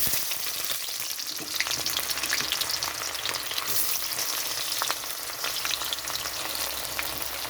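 Bay leaves and onion frying in hot mustard oil for a mutton curry, a steady close crackling sizzle with faint stirring scrapes running throughout, no voices.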